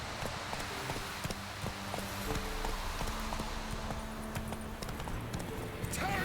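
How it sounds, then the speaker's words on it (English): Horses ridden by bandits in The Witcher 3 trot along a road, their hooves clip-clopping in a steady quick rhythm at moderate distance, faint against a soft ambient background. "Now these are bandits on horses."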